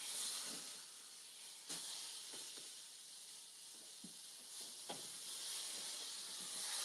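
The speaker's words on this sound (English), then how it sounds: "make sure they all get a nice sear on them." Venison roast searing in hot oil on high heat, a steady close hiss of sizzling with a few faint clicks and taps from turning the meat, no talking.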